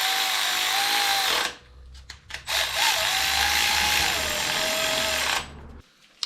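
Power tool whirring while removing engine main bearing cap bolts on a Toyota 2JZ engine, loud sustained bursts with a brief pause and rattling in between, close to the source.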